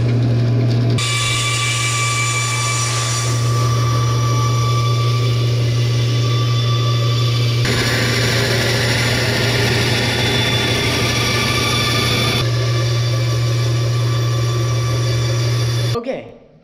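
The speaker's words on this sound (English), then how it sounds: "So the next step is I have to cut it out on the bandsaw." A bandsaw runs steadily, loud and close, with a strong low hum and a bright blade whine that shifts in tone as it cuts a wooden goose decoy silhouette, stopping near the end.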